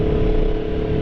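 A 2024 Aprilia Tuono V4 Factory motorcycle riding in the rain, a steady loud engine drone with a sustained hum and wind rush, heard close and continuous without variation.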